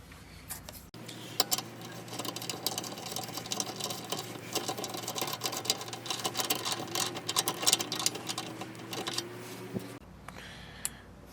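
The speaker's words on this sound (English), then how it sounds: "I'm going to take a 19mm socket and put one of my good used studs from an 89 Turbo on one of these clean ones here" A 19mm socket spins a used stud from a 1989 Turbo onto a clean Porsche 944 fitting, giving about nine seconds of steady, fast mechanical ticking and whirring at close range, with no talking.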